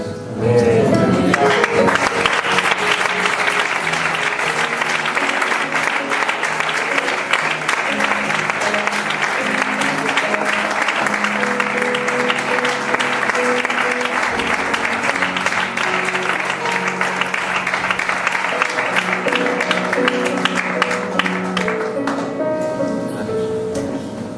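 Applause from a church congregation after a sermon, long and continuous clapping lasting over twenty seconds, loud and even, with soft instrumental tones sustained underneath.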